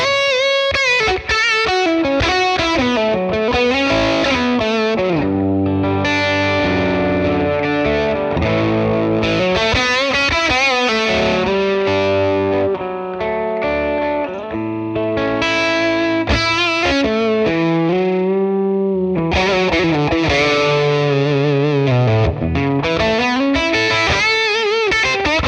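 A Les Paul electric guitar plays continuous crunchy riffs and chords through a captured 1966 Fender Blackface Bassman amp on a warm setting with light reverb, loud, saturated and unbroken, with no voices.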